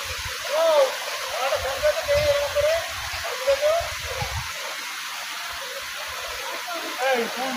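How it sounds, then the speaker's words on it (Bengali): Clothes being washed in a clear, rocky stream in a village, with water splashing and rushing close by, uneven and continuous, while a person talks over it. "এখানে একটু কাপড়ে ধুচ্ছি"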